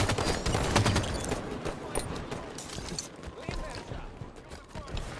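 Rapid bursts of gunfire from a Halo 5 Warzone Firefight multiplayer match crackle continuously at moderate loudness, mixed with other game effects and a voice talking over the action.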